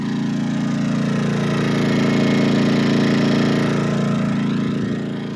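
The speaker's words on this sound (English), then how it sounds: "let me show you our little inverter slash generator. It's nice and quiet, a little Yamaha 2000 watt." A small Yamaha 2000-watt inverter generator runs at a steady, even hum, close by and fairly loud. It drones alone without talk, rising slightly in the middle and easing at the end.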